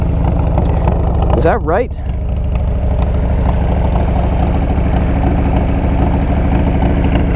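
A 1997 Harley-Davidson Ultra Classic with the 80 cubic inch Evo motor running at a steady loud idle, a constant low rumbling throb throughout while a person speaks briefly over it.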